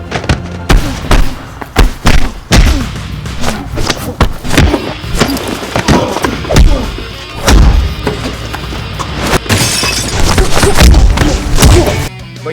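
Staged fight choreography with a rapid run of punches, kicks and body shots, close, sharp thuds and slaps landing in uneven bursts with scuffling between them, loud throughout.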